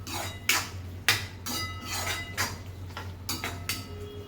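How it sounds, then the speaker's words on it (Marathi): Red chili powder being stirred into ridge gourd in a pan brings a series of sharp metallic clinks and scrapes of a spoon against the pan, spaced irregularly about half a second apart, fairly close and with no talking. "आता यावेळी याच्यामध्ये टाकायचं लाल तिखट आणि मिक्स करून घ्यायचं."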